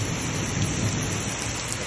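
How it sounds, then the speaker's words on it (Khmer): Steady rain falls with a continuous low thunder rumble beneath it, a dense, unbroken wash of storm noise with no voices. "ឥឡូវបងភ្លៀង"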